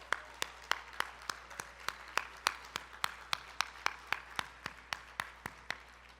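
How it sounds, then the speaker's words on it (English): Applause at a gala's opening remarks heard as a slow, steady series of single sharp claps, roughly three per second, close and evenly spaced over a faint background hum. "I think that deserves a round of applause"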